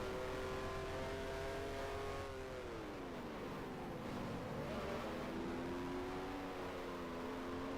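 A 1973-season Formula One car engine in F1 Challenge, the car suffering suspension damage: a steady, buzzing high-revving drone that dips and rises with gear changes and throttle, continuous and close, with no voices.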